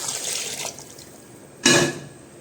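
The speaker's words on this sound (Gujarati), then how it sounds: "તો હવે આમાં થોડું કેટલું આપણે ગરમ પાણી નાખશું." Hot water poured into a pot of dal tempering, two separate splashing pours, the second louder and shorter, close by with no talking.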